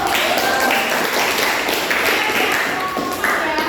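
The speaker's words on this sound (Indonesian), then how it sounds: "kasih tepuk tangan dulu" A classroom group clapping hands after a debate lesson discussion, an even, fairly close patter of claps lasting several seconds, with faint voices underneath.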